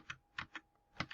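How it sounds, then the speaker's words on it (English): Keys clicking on a computer keyboard while search terms are entered on a library database site; four or five distinct, close keystrokes with uneven gaps between them, with no voices. "I'm just typing into these."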